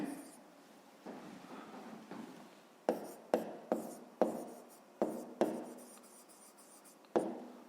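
A pen writes an answer on paper for a fifth-grade math exercise: soft scratching strokes punctuated by several sharp taps as the pen touches down, close and quiet.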